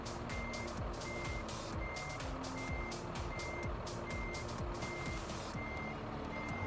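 A truck pulling double trailers backs up in a driving video game, its reversing alarm beeping in an even repeated rhythm over a constant loud engine rumble.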